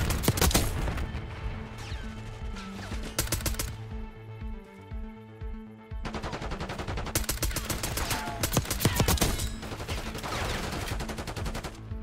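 Rapid suppressed gunfire from a silenced weapon in Black Ops 6 crackles in dense bursts, pauses briefly around the middle, then resumes in another sustained, close, loud volley.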